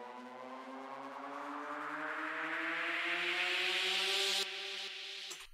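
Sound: white noise riser

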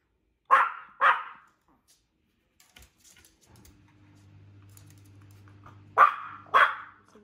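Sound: dog barking indoors

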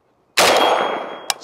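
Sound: Arsenal SAM5 rifle shot at ballistic shield

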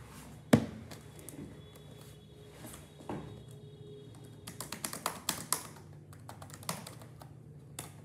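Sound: typing on a loud computer keyboard

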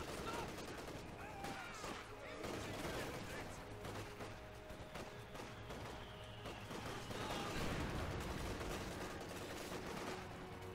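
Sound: heavy mortar fire, Company of Heroes 2 video game

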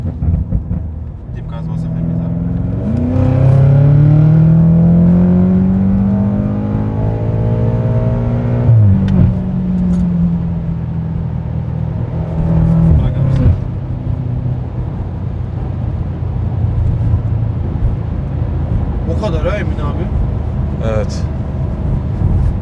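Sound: BMW M5 F90 engine revving

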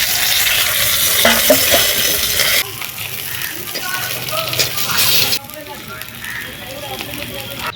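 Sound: fried fish sizzling in oil

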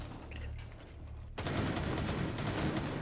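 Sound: gunfire from many guns in Rainbow Six Siege video game

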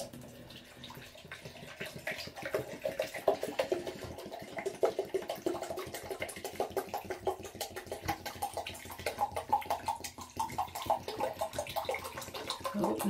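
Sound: water pouring from a Coke bottle into a jug

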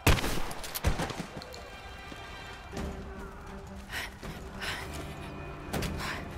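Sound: gunfire, from a video game (Rise of the Tomb Raider)

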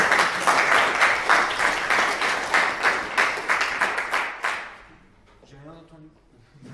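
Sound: audience applause at a demo night

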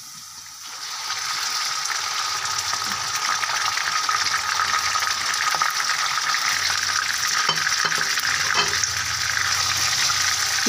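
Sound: beef brain frying in ghee with browned onions

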